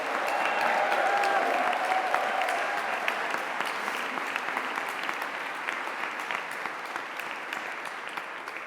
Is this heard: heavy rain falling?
no